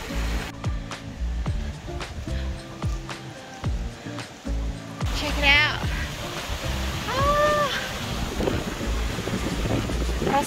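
Wind at Bells Rapids buffets and roars against the microphone throughout, gusting unevenly with occasional knocks and a few high chirps, and no speech.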